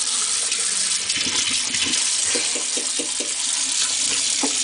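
Tap water runs steadily into a sink as a small brush is rinsed, with soft rhythmic splashes and brief scrubbing taps breaking the even hiss.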